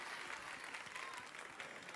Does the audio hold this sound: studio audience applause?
yes